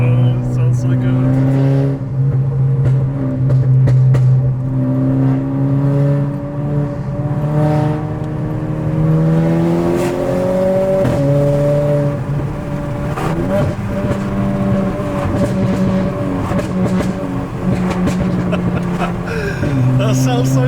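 A 250bhp Renault Clio RS engine revs up and down repeatedly, loud and close, its pitch rising and falling in surges; voices occasionally talk over it.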